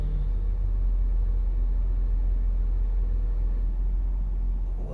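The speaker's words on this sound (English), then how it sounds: "So I'm gonna try and record while I'm driving." Steady low engine and road rumble fills the cabin of a moving car, a constant drone heard from inside with no talking.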